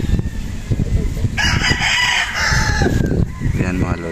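Gilmore gamefowl roosters crowing at a breeding farm, one drawn-out crow close by over a busy background of other birds and a faint voice.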